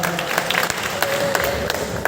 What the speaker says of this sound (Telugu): గట్టిగా క్లాప్స్ కొట్టి